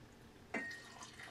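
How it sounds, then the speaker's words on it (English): A brief splash of liquid as Jägermeister and Red Bull are poured into a glass, a single short drip-like pour that fades quickly against a quiet room. "Now this isn't a shot, I'm just pouring it more as a drink."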